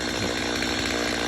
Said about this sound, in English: Love the sound of a chainsaw.